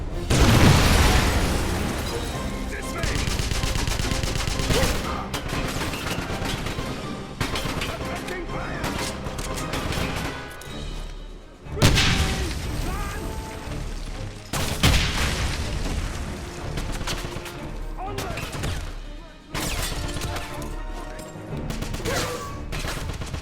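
Grenade blast and gunfire in the 2009 Wolfenstein game: heavy booms and crashes mixed with bursts of shooting, recurring loud impacts over roughly twenty seconds, with speech mixed in.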